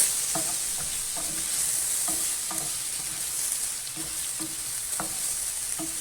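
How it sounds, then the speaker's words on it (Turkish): Julienned bell peppers sizzle steadily in a hot pan for chicken fajitas, with regular scraping strokes from a spatula every second or so as they're tossed. "Hep beraber şöyle güzelce kavuracağız."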